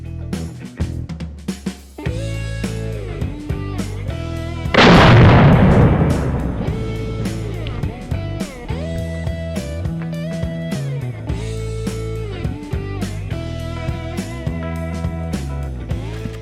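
.450 Bushmaster rifle fired at water jugs from 100 yards: a single loud, sharp blast with a rumbling tail bursts out midway, set against a steady, busy background.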